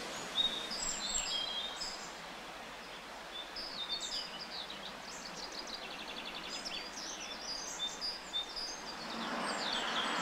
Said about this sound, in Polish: No, właśnie te ptaszki śpiewają.